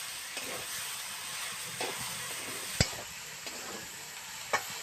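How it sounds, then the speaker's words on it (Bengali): Dhekir greens are stirred in a pan with salted hilsa and bean seeds, giving a continuous sizzling hiss with scraping stirs and a few sharp clinks of the utensil against the pan. "ভালো করে নেড়ে চেড়ে কষিয়ে নেব।"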